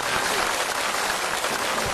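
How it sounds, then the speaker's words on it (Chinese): An audience claps after a comedy sketch at a Spring Festival Gala-style show, a dense, sustained burst of applause from a large crowd in a hall, loud and even throughout. "掌声再次鼓励各位"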